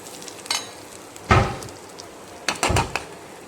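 Finely chopped jackfruit fibre stirred in a frying pan, heard as a few separate bursts of scraping and rustling spaced across a quiet background with a soft sizzle beneath.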